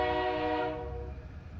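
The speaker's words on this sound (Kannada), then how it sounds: "ಏನೋ ಟ್ರೈನ್ ಸೌಂಡ್ ಬರ್ತಾ ಇದೆಯಲ್ಲೋ?" A train sounds a sustained, rich-toned horn that fades into a low rumbling hum as it passes, with no voices over it.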